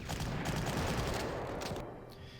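German artillery fire in the video game Panzer Corps, with Russian conscripts as the target: a short burst of rapid, crackling shots that is fairly loud at first and then thins and fades within a couple of seconds.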